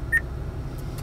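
Acura voice recognition system beep: one short, clean electronic tone near the start, followed by a quiet low hum.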